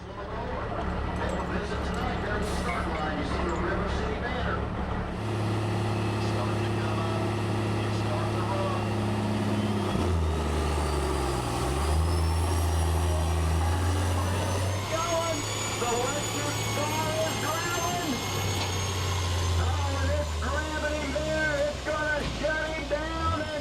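The rebuilt semi truck 'Sled Wrestler' roars at a truck pull, its engine climbing and shifting through loud revving surges with whistling turbo tones, close and sustained, with a voice talking over it.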